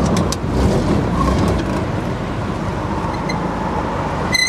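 A 1945 World War II Jeep rolls through Los Angeles traffic, its engine a steady low rumble blended with road and surrounding traffic noise, continuous and fairly loud with no talk.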